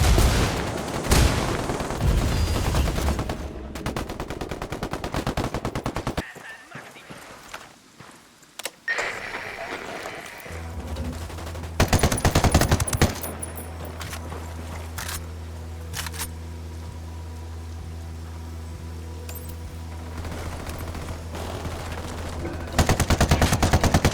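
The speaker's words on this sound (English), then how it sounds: "Opening fire." Bursts of automatic gunfire from Ghost Recon Wildlands fill the opening seconds, loud and dense, then return in sharp flurries later over a steady low drone, with no talking.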